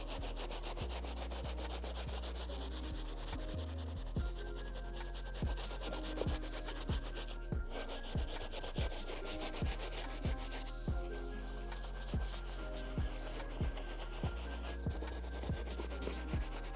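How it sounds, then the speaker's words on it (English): Soft bristle brush scrubbing a dirty Hoka sneaker, with steady rhythmic back-and-forth strokes, close and fairly loud, continuing alone without any voices. "we can really start cleaning with the soft bristle brush"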